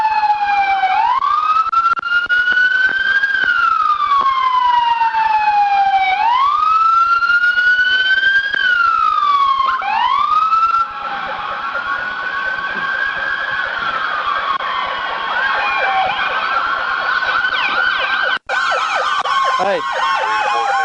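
A police car siren wails loud and close during a pursuit and arrest, sweeping up and down in long cycles before switching to a rapid yelp pattern that runs to the end.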